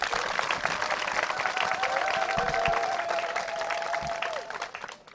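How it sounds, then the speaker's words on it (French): Crowd at a political party rally in Gabon applauds loudly, dense steady clapping with some cheering and a faint whistle-like tone running through the middle. "que je vous demande d'applaudir très fort"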